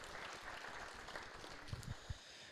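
An audience at the CERC 2019 opening ceremony in Prague applauds the University of Warsaw team, producing a faint, distant wash of continuous clapping with a few louder thumps near the end.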